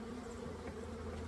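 Honey bees hum in a dense, steady drone at their hive in early April, a continuous close buzz with no breaks and no voices.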